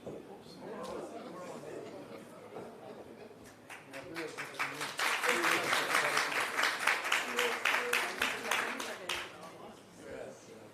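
A conference audience breaks into applause, starting as scattered claps and chatter, then swelling into a steady, dense round of clapping before thinning out near the end.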